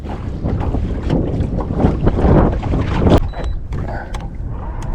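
Wind gusts buffet a fishing boat on Lake Murray in a steady, loud rush of noise, with sharper clanks and knocks near the end.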